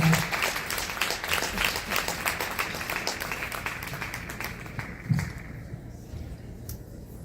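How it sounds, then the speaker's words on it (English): Audience at a Women in Architecture AGM applauds the minister before her keynote address: steady, dense clapping from a crowd that holds for several seconds, then gradually thins and softens toward the end. "This clap is for the minister."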